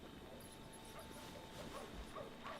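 A pet dog in The Sims 2, set at a family home, gives faint, soft yips and whimpers against a steady low background of game ambience, with no clear bark standing out.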